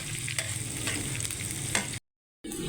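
Garlic and onion sauté in hot oil in a pan, a dense steady sizzle with light stirring scrapes, cut by a short gap of silence near the end before the sizzle resumes.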